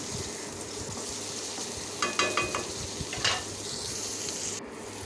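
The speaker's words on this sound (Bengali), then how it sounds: "পেঁয়াজটা ভাজতেছি।" Onions frying in a pan for snakehead fish curry, a steady sizzle under a few bright metallic clinks of a spoon against the pan, no talking.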